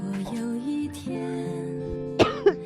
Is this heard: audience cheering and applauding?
no